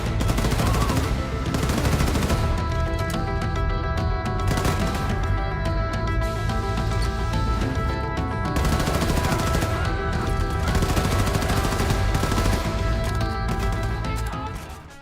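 Wolfenstein 2 combat against invading Nazis: sustained, dense rapid gunfire with rattling automatic bursts and heavy impacts running without a break under loud game music.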